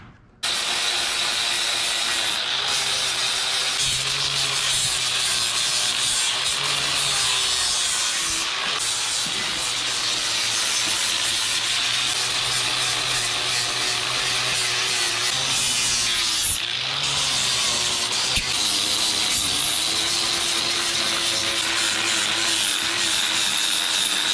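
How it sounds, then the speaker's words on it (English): An angle grinder fitted with a 40 grit metal grinding pad works over carbon fiber, producing a loud, continuous abrasive whine and rubbing roar that holds steady for the whole stretch with slight shifts in pressure. "We're gonna use my little grinder here, and we have a 40 grit metal grinding pad on it."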